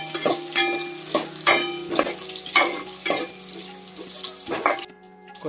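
Green chilies and chopped onions sizzle in a pan for a village-style chicken curry, stirred with a spoon in rhythmic scraping strokes roughly every half second over a steady crackling fry, close and fairly loud.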